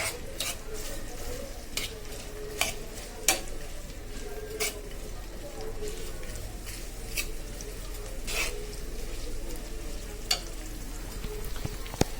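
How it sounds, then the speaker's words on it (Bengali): Onion, garlic and green chillies fry in oil in a wok for a bitter gourd dish, a low steady sizzle under repeated scraping strokes of a spatula against the metal, close and unbroken. "পেঁয়াজ রসুন আর কাঁচামরিচটা ভালোভাবে কষে যাক"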